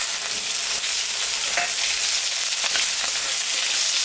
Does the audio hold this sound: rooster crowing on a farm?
no